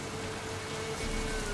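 Steady rain hisses in the fantasy game The Witcher 3, an even wash of falling drops with no voices over it.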